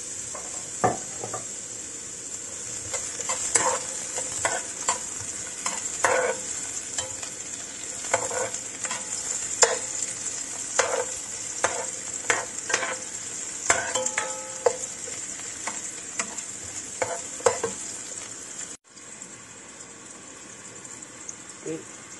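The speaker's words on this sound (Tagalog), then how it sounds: "So next, onion and garlic together." Onion and garlic sizzle steadily in a frying pan while a utensil stirs and scrapes, producing close, irregular clinks over the constant hiss.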